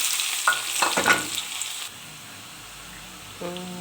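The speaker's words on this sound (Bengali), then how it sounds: "তেল গরম হয়ে গেছে আমি দিয়ে দিলাম পেঁয়াজ কুচি" Chopped onion hitting hot oil in a wok, cooked for a chicken giblets and meat dish, gives a bright crackling sizzle with stirring clatter early on, then settles into a steady, softer frying hiss.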